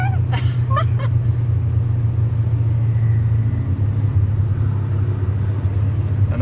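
Steady low engine rumble of a convoy of McLaren supercars rolling past at a supercar show, a continuous close drone with a few faint higher tones early on and no speech.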